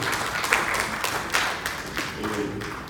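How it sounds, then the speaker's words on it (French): A church congregation applauds in praise, a dense, steady wash of clapping from a crowd that continues throughout with a few sharper bursts. "Applaudissons notre Seigneur."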